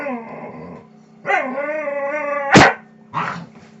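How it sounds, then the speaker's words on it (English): White dogs play fighting trade playful growls, whines and a couple of sharp barks up close, in short bursts with brief pauses between. "White dogs start play fighting."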